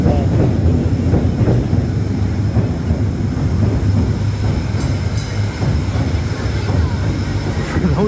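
A subway train rumbles past behind a house on a Tokyo street, a loud, continuous low roar with rail clatter lasting throughout, close by and dominating the scene.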